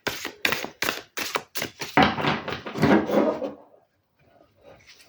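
Large tarot deck with a flexible card stock being shuffled by hand in a series of sharp papery taps, then a longer rustling riffle and a fading rattle before quiet.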